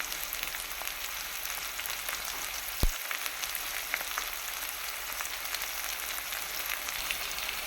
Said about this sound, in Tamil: வெங்காயம் பூண்டு தக்காளி ஆட் பண்ணி இந்த மாதிரி நல்லா வதக்கிக்கலாம்